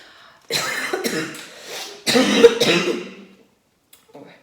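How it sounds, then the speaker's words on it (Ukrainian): A person coughs in two harsh bursts, close and loud, then falls quiet apart from a faint brief sound near the end. "Вибачте, напав мій кашель."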